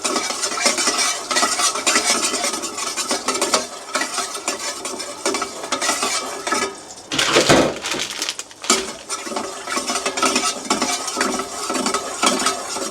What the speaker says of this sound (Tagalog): Ayan, haluin lang po.